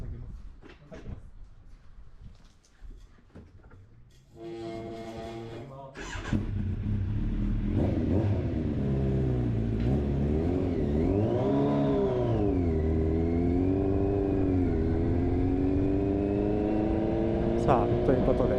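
Kawasaki Z900RS motorcycle modified by Moriwaki, heard onboard during a track test ride at HSR Kyushu: engine revs rising and falling through gear changes with wind rush, loud and continuous, preceded by a brief idle and blip.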